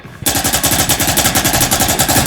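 Automatic gunfire from the video game Valorant bursts in after a brief pause: a loud, fast, unbroken rattle of rapid shots lasting about two seconds.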